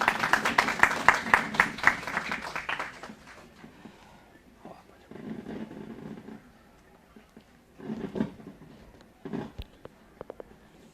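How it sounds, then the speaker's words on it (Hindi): An audience at a university event applauds to welcome a speaker: a loud burst of clapping at first that fades, followed by scattered softer claps and brief murmurs in a hall. "तालियों के साथ स्वागत करें।"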